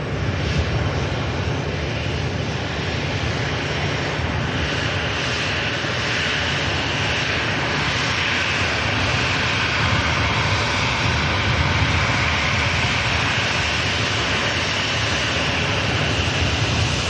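An EasyJet jet airliner touches down, its engines producing a sustained, even roar with a strong low rumble that fills the whole stretch without a break.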